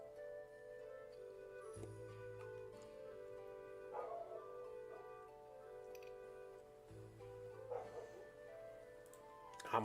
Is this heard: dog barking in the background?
yes